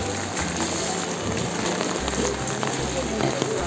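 Steady rain falling outdoors at a Himalayan temple, a continuous broadband patter with some low rumbling, moderately loud and even throughout, with faint voices in the background.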